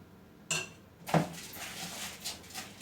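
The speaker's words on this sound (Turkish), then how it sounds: "Ben bunları karıştırayım arkadaşlar" Bowl of stuffing ingredients with mint being mixed by hand, giving a few soft clinks and scrapes against the bowl, a sharper knock near the start and quieter stirring noises after, close and fairly faint.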